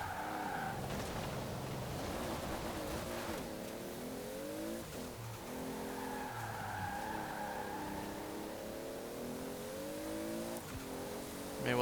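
A 1992 Toyota Supra 2.0 GT Twin Turbo with a wide body kit in Forza Horizon 4 drives steadily with a constant engine note that rises and falls as it slides, faint tire squeal mixed in throughout.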